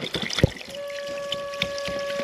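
A faint hiss of air and water pressure escaping from the tank of a DJI Agras T20p agricultural spray drone, carrying a steady whistling tone, with a short knock and scattered handling noises around it outdoors.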